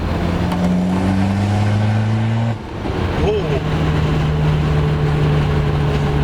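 Nitrous VW Polo TDI diesel pulling hard in third gear, a loud steady engine drone with rising tones, a brief dip at a shift, then continuing strongly, heard from inside the cabin with people talking over it.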